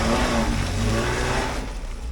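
A Jeep engine revs hard as it climbs an off-road hill at Hocking Hills, with a steady, loud, close mid-pitched drone under throttle throughout and no talk.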